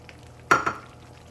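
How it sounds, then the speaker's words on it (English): Pre-cooked fish goes into a pot of Senegalese okra soup with one brief clattering plop, a smaller knock right after, then near quiet. "Now we are adding the fish."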